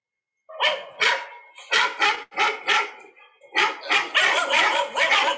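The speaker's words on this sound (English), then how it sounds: "So I have a clip of a dog barking." A recorded dog barks repeatedly through a phone speaker, with sharp, uneven bursts and a run of quicker barks near the end, heard fairly close with no talk over it.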